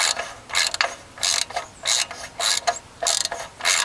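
A ratchet clicks in short, repeated bursts as it backs a bolt out while replacing an oxygen sensor. The sound is close and crisp, with brief pauses between strokes and no talking.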